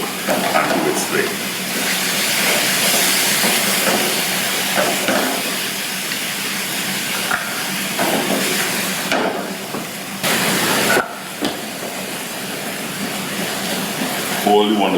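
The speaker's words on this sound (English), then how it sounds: "Allow it to sear, allow it to cook, and do it straight." Sticky chili garlic pork searing in a hot pan, a loud, continuous hissing sizzle with a few brief dips, while someone talks over it.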